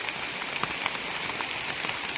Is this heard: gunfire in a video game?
no